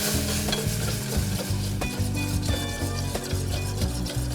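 Onion and garlic sizzle loudly in a hot pan while being stirred, a continuous close frying hiss with scraping and clinking of the utensil throughout.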